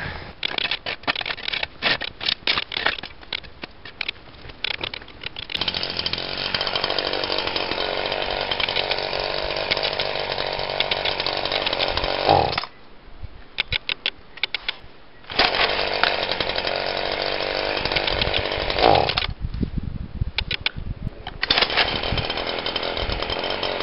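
A chainsaw roars and revs while cutting wood, loud and close, with short drops in between as the engine eases off before cutting again.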